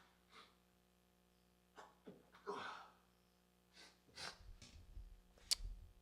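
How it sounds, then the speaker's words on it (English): A single sharp sneeze bursts out indoors, followed by a few nearby breaths, sniffs and small throat noises against a faint steady hum. "think I'm going to sneeze."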